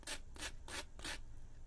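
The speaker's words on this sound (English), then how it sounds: "So I just take a piece of sandpaper and just kind of work with that" Sandpaper is rubbed by hand to smooth burrs off a tool, making four even, rhythmic scratchy strokes close to the microphone, then a brief pause.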